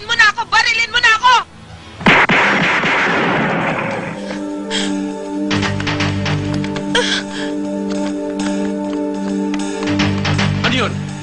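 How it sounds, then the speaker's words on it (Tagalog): A nearby burst of gunfire in a Tagalog action film: sharp rapid cracks and booms pile into a dense, loud volley, followed by sustained ringing tones and music, with a shouting voice at the start. "Sir, may nagpaputok doon."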